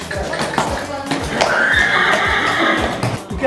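A horse whinnies in a drawn-out, wavering neigh at moderate distance, set among clip-clops, thumps and background voices.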